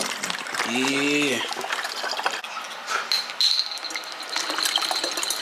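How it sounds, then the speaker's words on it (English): Water runs into a water bottle as it is filled, a soft trickle with a faint rising tone in the background, following a brief spoken word. "Fill up the water bottle with some water."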